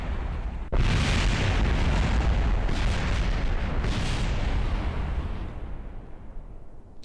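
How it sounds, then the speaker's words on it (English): A rocket blowing up in Kerbal Space Program, heard as a sudden loud blast that rolls into a long, dense rumbling roar of continuing explosions, holding steady before slowly thinning out near the end. "That might be the most explosion I've ever had in one go."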